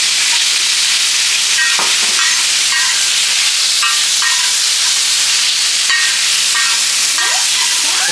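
Marinated chicken frying in refined oil on a hot tawa for hakka noodles, a loud continuous sizzle with repeated scraping stirs of a spatula close by.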